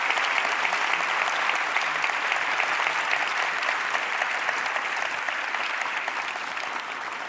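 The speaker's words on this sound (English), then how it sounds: "I think you can give them already a warm applause" Warm, sustained applause for festival finalists fills a large hall, a dense, even wash of clapping from a big crowd that fades only slightly toward the end.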